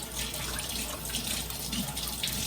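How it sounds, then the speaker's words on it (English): Grapes are rinsed under a running kitchen tap, a steady close hiss of flowing water with faint rattling and splashing throughout, no talking. "I'm gonna wash them anyway."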